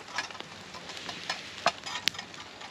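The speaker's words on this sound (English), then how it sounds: "Right, well that's the steak on the fire." A steak sizzles over a campfire on a solo overnight woods camp. The faint, steady frying hiss is broken by small crackles and pops, with no talking.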